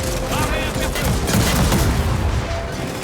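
Gunfire from the video game Gears of War 4, including sniper shots, loud and dense bursts running steadily throughout with game action layered underneath.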